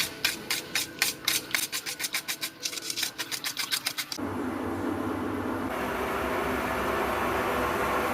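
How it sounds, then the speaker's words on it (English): A spicy sauce is whisked in a bowl for a birthday meal, giving quick rhythmic scraping strokes that stop partway through, after which a steady broadband rush carries on to the end. "We're just going to whisk this all together."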